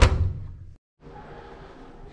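A hotel room door at a five-star resort in Kemer, Turkey, slammed shut with one loud, sharp thud, followed by brief silence and then quiet corridor ambience.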